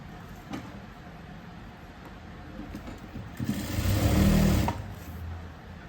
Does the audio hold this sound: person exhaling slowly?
no